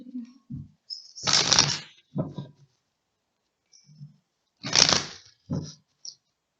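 Tarot cards riffled and shuffled in a few quick bursts with short pauses between, close and crisp, otherwise quiet.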